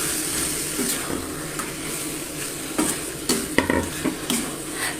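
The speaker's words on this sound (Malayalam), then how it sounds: "നന്നായി ഇളക്കി കൊടുക്കുക ആ മസാലകളൊക്കെ ആ ചിക്കനിലേക്ക് പിടിക്കട്ടെ" A spoon stirs marinated chicken through masala in a hot pan while making chicken chukka, with steady scraping and continuous sizzling up close and a few sharper clinks of metal against the pan.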